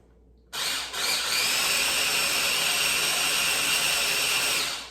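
A blender whirs steadily to purée shrimp taco sauce finer, starting abruptly with a brief dip, then running loud and continuous before easing off at the end, with no talking over it.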